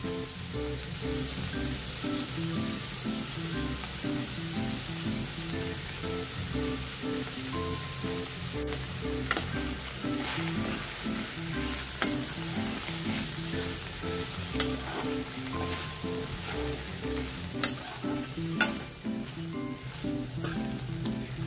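Boiled moong dal tipped into cooked moringa greens in a hot pan, a steady close sizzle running throughout with occasional sharp clicks and scrapes of a spoon stirring, no voices.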